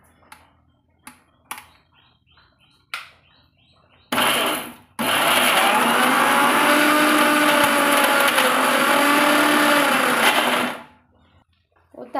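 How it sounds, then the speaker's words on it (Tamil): A kitchen mixer grinder grinds ingredients without water, starting with a short burst, then a sustained loud whirring run of about six seconds before stopping, preceded by a few clicks and taps. "நம்ம அதை ஒரு மிக்சியில் வச்சு தண்ணி சேர்த்தாமையே ஃபஸ்ட்டு அரைச்சி எடுத்துக்கலாங்க"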